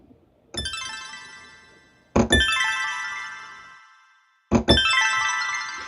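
A wind chime preset on a Delta MIDI computer rings out as three separate struck chimes, each a bright metallic attack that sustains and slowly decays into silence before the next.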